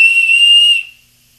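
A person whistles part of a song, a single bright, clear held note sounding close and loud before it abruptly stops and leaves near silence.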